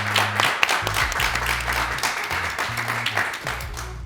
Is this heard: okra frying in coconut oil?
no